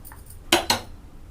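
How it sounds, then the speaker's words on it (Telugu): A metal spoon knocks twice against a pot while sago pudding is stirred, two sharp close clinks in quick succession with quiet around them. "సగ్గుబియ్యం వేసాక ఇలా కలుపుకుంటూ ఉండండి"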